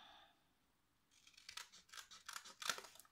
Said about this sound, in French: Ensuite, vous prenez la paire de ciseaux.